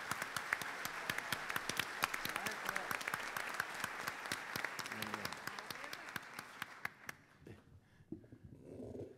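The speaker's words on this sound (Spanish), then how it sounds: "Los recibimos con un fuerte aplauso, Raúl y Karina." Loud, sustained applause from a crowd at a tribute to Luis Landriscina, dense clapping that fades out toward the end, with some voices mixed in.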